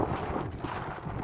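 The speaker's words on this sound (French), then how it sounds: "un vent glacial." Icy wind buffets a microphone on bare, treeless plains along the GR 65 pilgrimage trail, a steady rough rumble that roars throughout with no voices.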